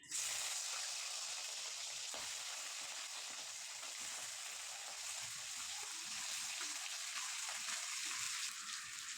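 Chicken pieces go into a kadai with cinnamon, cardamom, onion and garlic for a moong dal curry, giving a soft, even, continuous frying hiss throughout, quiet and close, with no talk.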